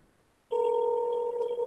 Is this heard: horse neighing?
no